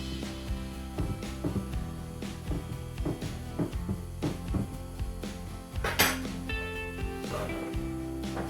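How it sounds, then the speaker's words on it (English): A fork pricks the pastry lid of a chicken pot pie in its dish, making a run of light, irregular taps and clinks against the baking dish, close by, over background music. "now we're going to prick the pastry all over"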